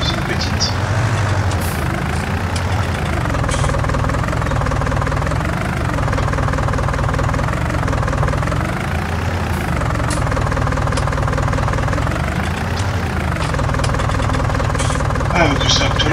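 Tractor engine in a PC farming simulator game, a loud, steady diesel drone with rising and falling revs throughout, and people talking over it.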